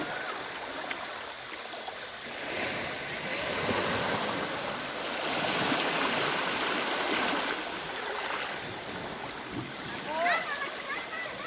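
Seawater washing against a rocky shore at a Thai beach with a sea-worn rock arch, a broad continuous wash that swells and recedes, moderately loud and close, with no talk.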